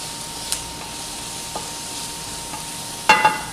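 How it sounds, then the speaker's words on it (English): A quiet, steady sizzle of onions and meat frying in a skillet, with occasional spoon scrapes and a louder stir near the end. "We have a nice sizzle going on."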